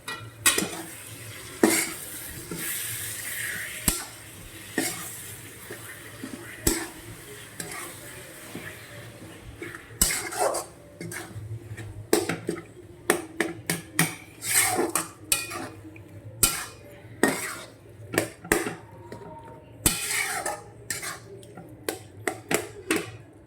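A spoon stirs eggplant bharta in a metal pan, producing repeated scraping and clattering strokes over a soft sizzle. The strokes grow busier and louder toward the end, heard close up without talk.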